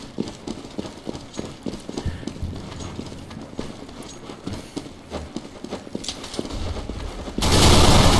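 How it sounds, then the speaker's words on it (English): A machine pistol fires in a CS:GO match on de_dust2, a fast rattle of clicky shots running continuously, with a louder wash of noise rising at the end. "LKS firing off that little machine pistol"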